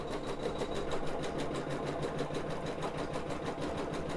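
A sewing machine runs a basting stitch on fabric, its needle hammering in a fast, steady, even rhythm close by with no pauses and no voices.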